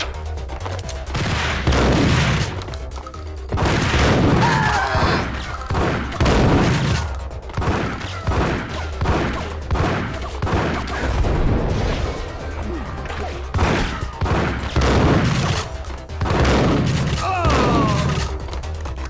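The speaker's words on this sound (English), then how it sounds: "It's the grenades!" Repeated grenade blasts and gunfire in the video game Max Payne, a loud chaotic run of booming bursts and crackling shots spaced every second or two, with occasional voices.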